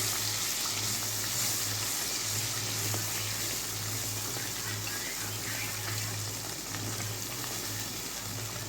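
Blended cashew paste fries with chicken in a pan, giving a loud, continuous sizzle with a steady low hum underneath and occasional stirring noises.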